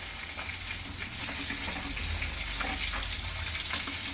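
Two dried red chillies fry in hot oil with onions in a pan for chutney, giving a steady, close sizzle and hiss throughout with no talking.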